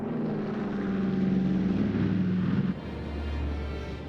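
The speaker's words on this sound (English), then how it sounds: "The bombers were next." Propeller engines of WWII bombers on D-Day, June 1944, drone steadily and loudly throughout, a dense low roar that shifts pitch slightly partway through, with no voices.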